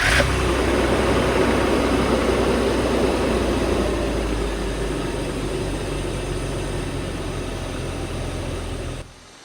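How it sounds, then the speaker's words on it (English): BMW E38 with an M52B28 inline-six engine running just after a start, settling into a steady idle that stays loud and close, with a broad, even hum easing slightly before cutting off at the end. "So we have just started the car. We are going to let it idle, warm up."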